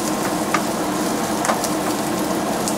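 Fried shallots stir-fried in hot oil for taro cake give a loud, steady sizzle, with faint scraping of the spatula and crackling pops rising over the constant frying hiss.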